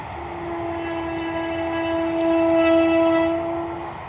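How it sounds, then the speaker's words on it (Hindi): A train on an Indian railway line sounds a long, steady horn while passing near, loud and sustained, swelling slightly toward the middle, with no voices. "ये इस रूट से चेन्नई एक्सप्रेस वगैरह, गोंदिया, नागपुर आदि के लिए ट्रेन निरंतर आना जाना करती हैं"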